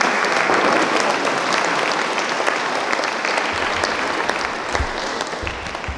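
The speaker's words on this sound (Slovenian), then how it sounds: "En aplavz za Barbaro" An audience applauds at a mandolin orchestra concert in a museum-day event, a dense, steady wash of many hands clapping that stays loud and full throughout, with no speech over it.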